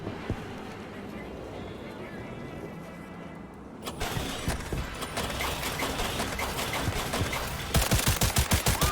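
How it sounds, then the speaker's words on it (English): Gunfire in the video game Cyberpunk 2077 builds up over a background of engine rumble and speech, with rapid sharp shots becoming clearest and loudest in the final second. "Whoa, no, stop shooting!"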